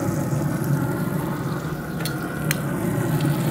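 Ribeye steak with butter sizzling on a Z Grills pellet grill, a steady close crackle throughout with a couple of sharp ticks partway through.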